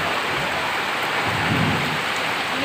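Loud, continuous downpour in a windy afternoon storm over a rural courtyard, with low thunder rumbling beneath the steady rain roar and no voices.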